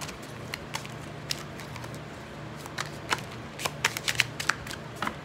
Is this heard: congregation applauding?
no